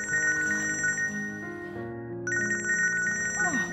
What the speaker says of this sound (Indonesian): Tuh, telepon kamu bunyi.